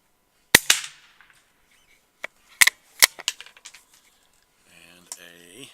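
Sharp, loud reports from a CCI subsonic 22LR 40 grain round, several cracks at irregular intervals, some close together, with faint talk near the end.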